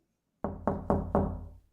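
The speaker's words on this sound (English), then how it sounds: "Did you hear a knock?" Four firm knocks on a door in a vintage radio drama, evenly spaced, close and loud, standing alone with no talk.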